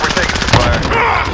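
Rapid automatic gunfire rattles in a fast, steady burst of evenly spaced shots during a video game firefight, loud and close, with one heavier impact partway through.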